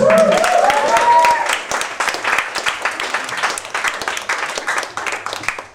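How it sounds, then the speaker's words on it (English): Audience applause at a stand-up comedy show, loud clapping from a crowd with a voice briefly heard at the start, then dense clapping that gradually thins and fades toward the end. "Round of applause for Maria."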